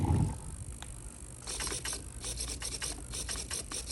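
A ratchet clicks rapidly in short bursts while tightening the steering servo on a Hobao Hyper ST nitro RC truggy, close and fairly quiet with no talk.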